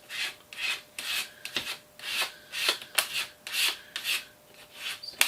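A tool is scraped through wet paint or medium to make a faux wood grain texture, giving repeated raspy strokes in a steady rhythm, each a close, rough swish with brief pauses between.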